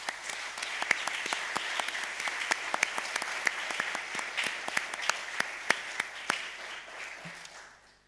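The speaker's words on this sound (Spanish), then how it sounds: "un fuerte aplauso" Strong applause for two guests arriving at a public talk event, a dense, steady wash of clapping with sharp individual claps standing out, fading toward the end.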